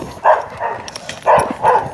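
Dogs bark from the surroundings during an evening walk in a valley, four short bursts in two pairs, moderately close, with no talking.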